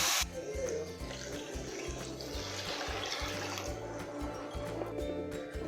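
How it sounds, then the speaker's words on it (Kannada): A glass of water is poured into a simmering green masala brinjal gravy, giving a continuous close splashing and trickling that lasts several seconds. "ಇದರಲ್ಲೇ ಒಂದು ಗ್ಲಾಸ್ ನೀರು ಹಾಕ್ಕೋಬೇಕು."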